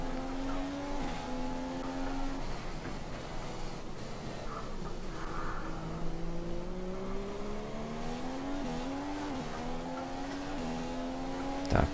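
Race cars in the F1 2015 racing game at the Bahrain Grand Prix scream along with steady, wavering engine tones, tyres squealing through corners under the continuous high-revving drone.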